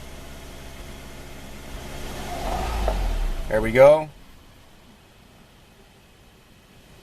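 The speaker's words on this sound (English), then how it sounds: "Engine just died." A car engine with a hard-starting and driveability fault runs at a low rumble during a diagnostic test, swells briefly, then cuts out abruptly and leaves near silence; someone speaks a few words just before it dies.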